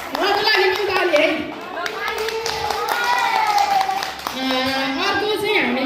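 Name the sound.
group clapping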